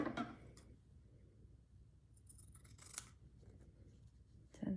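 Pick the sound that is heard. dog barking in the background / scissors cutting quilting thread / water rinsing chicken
scissors cutting quilting thread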